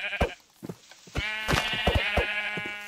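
Sheep bleating in a video game, several short calls coming one after another at close range, standing out against a steady, bright, buzzy game background.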